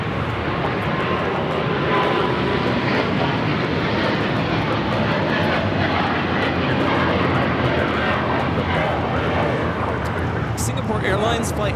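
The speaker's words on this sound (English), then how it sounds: "Airlines Flight 11 taking off to Tokyo Narita on the 777-300ER" A Singapore Airlines Boeing 777-300ER taking off from Los Angeles International Airport bound for Tokyo Narita, a sustained, powerful jet roar that stays loud and steady throughout.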